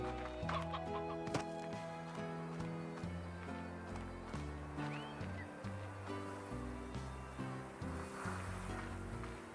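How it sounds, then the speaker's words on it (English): Chickens in the video game Slime Rancher cluck in scattered bursts throughout. The clucking plays over steady background music and a soft wash like surf. "It's a lot of chickens."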